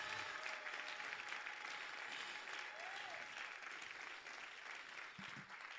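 A church congregation applauds during a French-language service with a pastor, producing steady, even clapping from a crowd that stays fairly faint and distant throughout.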